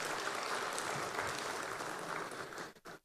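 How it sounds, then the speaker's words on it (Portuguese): An audience applauds Guilherme, an IDP professor, as he joins a panel discussion: dense, steady clapping that holds evenly for a few seconds, then thins out and breaks off near the end. "palmas para o Guilherme"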